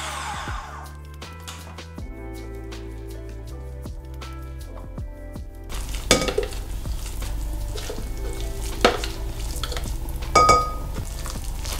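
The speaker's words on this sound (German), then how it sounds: "Jetzt mische ich die Linsenmasse unter die Kartoffeln." Moist lentil mash is mixed into potatoes in a bowl, giving wet squelching and scraping stirs up close, louder and denser in the second half over a faint hum.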